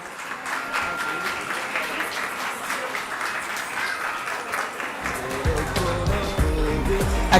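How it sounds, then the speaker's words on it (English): Sustained audience applause after a stage performance at a youth culture camp talent day, broad continuous clapping with a low rumble building toward the end. "the thunderous applause said it all."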